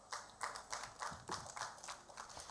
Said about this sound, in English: a more deserving applause for our chairs for this session